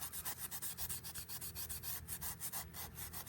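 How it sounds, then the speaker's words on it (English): A Scotch-Brite pad scrubs the valve cover sealing surface on the cylinder head of a 1996 Ford E-350 van's 7.5L big-block 460 in quick, even strokes, a faint close rhythmic rasping with no talk. "And a Scotch-Brite pad."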